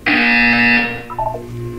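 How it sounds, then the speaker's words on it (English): Loud harsh buzzer from the video game Portal 2 sounds once for nearly a second, followed by a short fainter tonal blip. "You will hear a buzzer."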